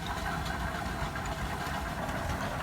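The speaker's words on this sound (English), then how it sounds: "this thing is powered by a big old steam engine over there" An antique veneer machine driven by a big old steam engine at a tractor and machinery show runs with a steady, dense mechanical rumble and clatter, loud and continuous with no talk over it.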